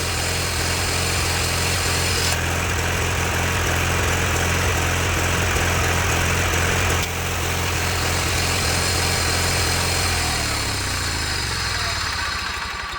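John Deere garden tractor, recently repaired, running with its front PTO engaged, a loud steady engine drone with a high mechanical whine that holds throughout, then shifts in pitch and roughens toward the end.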